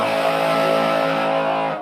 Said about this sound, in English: if you've got your volume full blast, you'll have lots of distortion, loads of fuzz.